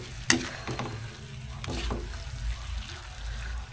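Chicken tinola cooking in a pot, stirred with a utensil: steady sizzling frying with a few scraping clinks of the spoon against the pot, close and moderately loud, no talking.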